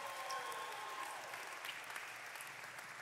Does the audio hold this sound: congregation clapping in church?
yes